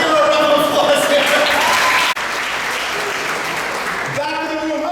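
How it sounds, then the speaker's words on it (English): Applause from the audience at a comedy show in Tipton, a dense burst of clapping with cheers and voices mixed in; it drops sharply for a moment midway, then carries on steadily to the end. "Let's give her a round of applause here."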